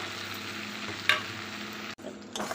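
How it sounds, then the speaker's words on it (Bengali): Fried fish heads go into a pan of sizzling masala and are stirred, giving a steady frying hiss with a sharp clatter of the spoon partway through and a brief break before the sizzle returns. "এখন দিয়ে দিচ্ছি এই ভাজা মুড়োগুলো"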